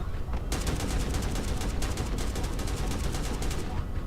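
Rapid automatic gunfire rattles in the battle royale video game Sausage Man, a dense burst of shots that starts after a brief pause and keeps going almost to the end, loud and close.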